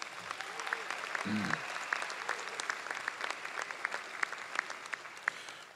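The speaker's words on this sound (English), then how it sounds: "so let's give a round of applause to our donors." A closing-ceremony audience at a summer program gives sustained applause for the donors. Thick, even clapping runs throughout, with a brief voice near the start.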